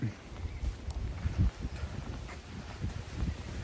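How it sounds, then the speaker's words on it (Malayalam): Gusty wind buffets the microphone in low rumbling bursts, rising and falling over a few seconds with faint rustling. "നല്ല കാറ്റും ഉണ്ട്"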